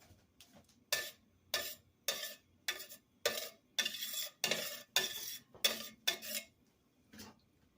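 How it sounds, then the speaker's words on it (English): Mushrooms stirred in melted fat in a pan, giving about a dozen scraping, clattering strokes in a steady rhythm with short gaps between them, close and fairly loud, with no talk. "we'll put the mushrooms in."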